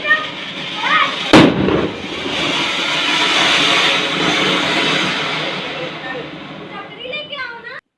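Diwali firecrackers go off outdoors, with one sharp nearby bang followed by a long crackling, hissing burn, while people talk and exclaim in the background.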